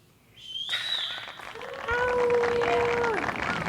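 A crowd cheering and applause sound effect: rising whistles cut in, then a broad wash of clapping and cheering swells and holds loudly to the end.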